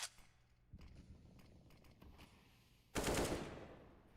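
Gunfire in a Counter-Strike match: a short rattle of shots near the start, scattered mechanical clicks, then a loud close burst of automatic fire near the end.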